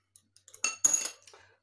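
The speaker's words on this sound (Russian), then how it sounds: "Здесь мы хорошо перемешиваем ложкой." Spoon scraping and clinking through chocolate sour cream cake batter in a bowl, a few light taps followed by two louder stirring bursts and softer scrapes, close and without talk.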